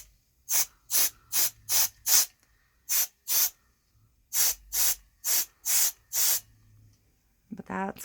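A spray bottle fires repeated short hissing blasts over alcohol inks on a vinyl-wrapped tumbler, about fifteen bursts in quick groups with brief pauses, before a voice starts speaking at the end.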